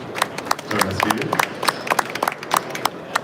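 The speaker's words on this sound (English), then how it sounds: "I would like you to welcome them with a huge round of applause" Audience applause at a corporate reveal event at the BAU 2025 trade fair: scattered, uneven clapping from a modest crowd, steady throughout with sharp individual claps standing out.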